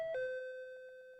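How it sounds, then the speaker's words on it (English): Apartment doorbell giving a single electronic ding-dong, a clear sustained tone that rings on and fades slowly, heard alone in a quiet room. "The doorbell rings a few minutes before 12, and Sora goes out to greet our guests."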